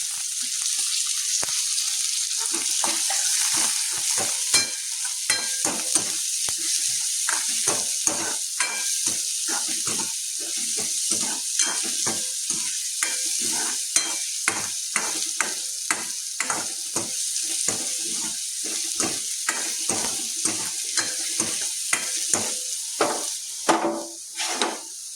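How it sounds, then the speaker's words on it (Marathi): Finely chopped garlic and onion fry in a pan, giving a steady loud sizzle with a long run of close, rhythmic knocks and scrapes from a spatula stirring. "आतां आमी घालुया हितून 4 लसणुच्यो बारीक चिरलेल्यो कुडके आनी कांदो तळसून घेवया."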